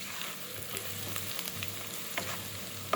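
Ingredients roasting in a kadai, a soft continuous frying hiss with light stirring touches, close and fairly quiet, no voices.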